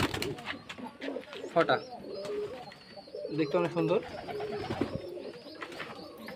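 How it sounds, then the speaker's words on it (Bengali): Pigeons coo throughout at a pigeon farm in Bangladesh, a close chorus of low throaty calls continuing beneath someone speaking. "দর্শক আমরা দেখতে পাচ্ছি অনেক কবুতর"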